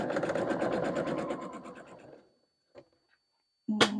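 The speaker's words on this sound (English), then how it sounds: "the rest of these I'm going to sew the G pieces onto the right hand side" A sewing machine stitches quilt pieces together in a steady rapid run that slows and stops, followed by a faint tap and a sudden clatter of something dropped nearby.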